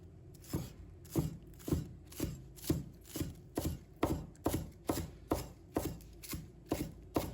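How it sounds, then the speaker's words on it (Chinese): A knife chops green onions into small scallion pieces on a cutting board in a home kitchen, with about a dozen evenly spaced, close, crisp strokes in a steady rhythm. "把它切成葱花。"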